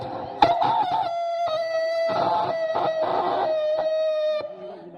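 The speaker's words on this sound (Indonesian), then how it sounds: "bunyi ayam" A rooster crows loudly and close by at dawn, a long harmonic call stretched over several seconds with clucking bursts mixed in.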